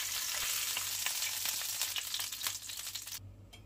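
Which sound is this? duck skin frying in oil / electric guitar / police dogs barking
duck skin frying in oil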